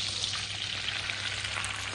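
A venison roast sears in hot butter and oil, giving a steady dense sizzle with fine crackling spatters, close and continuous without speech.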